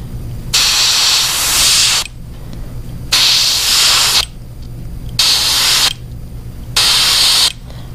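Airbrush spraying paint lines onto a fishing lure in four even bursts of sharp, close hiss, each lasting about a second and a half, separated by short pauses with a low hum underneath.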